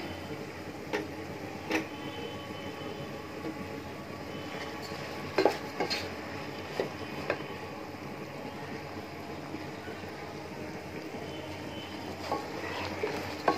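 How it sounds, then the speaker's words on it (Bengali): Polao rice frying in oil in a pot with whole green chillies and ginger-garlic paste, a low steady sizzle broken by scattered sharp scrapes and clinks of a spoon against the pot, fairly quiet and without talk. "এখন আমি চালটাকে খুব ভালো করে তেলে কষিয়ে নিব।"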